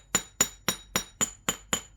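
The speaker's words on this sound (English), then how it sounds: "And I try to hit the wire." A domed chasing hammer strikes wire being shaped into a pendant, eight crisp metallic taps at an even, steady pace, close and clear with no voices.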